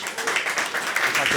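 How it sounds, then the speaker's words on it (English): Audience applause at a startup community event at a Google startup hub, a short burst of steady clapping from a room of people, fairly loud and continuous. "So we get a nice round of applause."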